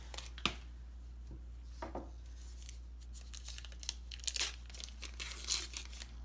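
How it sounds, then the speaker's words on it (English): Butter being sliced with a knife at home for a pie crust, heard as faint, irregular crinkly cuts and soft scrapes over a steady low hum. "I'm just some lady at my house slicing butter"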